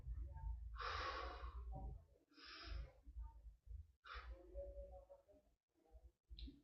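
Someone doing a breathing exercise pushes air out in several forceful, audible exhales with abdominal contractions, spaced by pauses and softer breaths, close and quiet.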